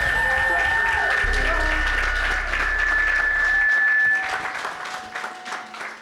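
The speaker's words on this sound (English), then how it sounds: "can we give him a round of applause?" An audience at a book launch interview applauds in a dense burst of clapping that holds strong for about four seconds, then thins out and fades, with a faint tone running underneath.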